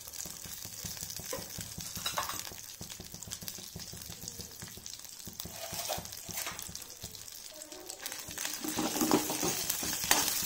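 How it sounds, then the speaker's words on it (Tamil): Dried red chillies and curry leaves fry in oil in a pan, a steady close crackling sizzle with occasional stirring scrapes that grows louder toward the end, with no voices. "இது மாதிரி வெங்காயம் மிளகாய் வந்து கொஞ்சம் செவக்கிற மாதிரி வணக்கணும், ரொம்ப கருகிற மாதிரி வணக்க வேண்டாம்"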